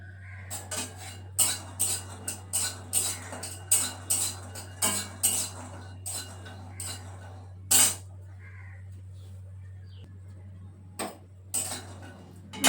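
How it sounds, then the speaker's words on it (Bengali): A spatula clinks and scrapes against a metal wok while peanuts roast, making a string of sharp, irregular metallic taps close by, with quieter pauses between bursts and no talking. "সবার আগে বাদামগুলো ভেজে নেব একদম কড়ার মধ্যে।"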